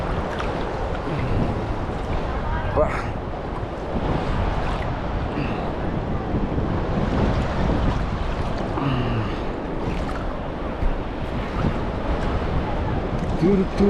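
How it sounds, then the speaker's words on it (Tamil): Surf washes continuously onto a Maldives beach, a broad rushing wash with wind buffeting the microphone and no clear pause between waves. "நல்ல அழகான பீச். சூப்பரான சூப்பரான பீச்."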